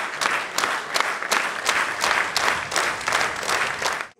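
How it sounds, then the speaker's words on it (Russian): Long, sustained applause from an assembly audience at a session of Dagestan's People's Assembly. Dense, steady clapping fills the whole stretch with no pauses and no speech. "Экспрессивное выступление экс-главы сопровождали долгие аплодисменты."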